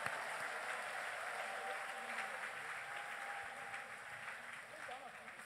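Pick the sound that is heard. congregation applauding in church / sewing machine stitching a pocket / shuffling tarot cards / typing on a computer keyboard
congregation applauding in church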